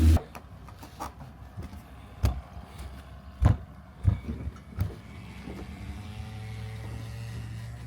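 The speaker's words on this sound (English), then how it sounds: "I'm going to start up the motor and then we'll push off and go." A boat motor on the Tennessee-Tombigbee Waterway near Wilkins Lock starts up: a few sharp knocks and clunks, then a low, steady engine drone settles in and keeps running, nearby.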